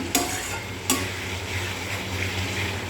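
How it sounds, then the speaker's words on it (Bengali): Spices frying in a pan while being stirred, a continuous close sizzle punctuated by two sharp scrapes of a spoon against the pan early on, no voices. "এবার সব মশলাগুলোকে এক নাড়া দিয়ে দেবো।"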